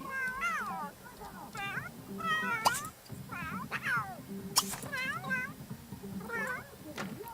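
Several cats meow repeatedly in The Sims 3, rising and falling cries scattered across the stretch, some overlapping, over a steady game background with someone talking faintly underneath.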